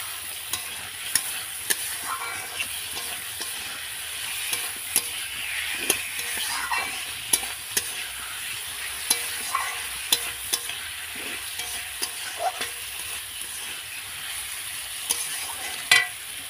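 Meat fries in a pan with a constant sizzle, while a utensil stirs and scrapes at irregular moments throughout.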